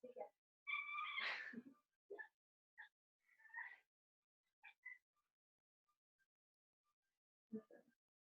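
A cat meows several times close by in a quiet room: a long, loud call first, followed by shorter, softer mews and a final brief meow after a pause.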